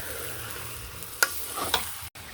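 Marinated meat for a curry sizzles and fries in a pan while being stirred, a steady hiss with a couple of clinks from the spoon against the pan.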